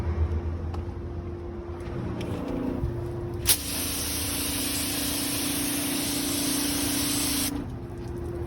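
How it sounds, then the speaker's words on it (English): A pressure washer on a mobile car-detailing van setup sprays steadily for several seconds, a loud broad hiss that starts abruptly and cuts off, over a constant low motor hum. "This is the pressure washer."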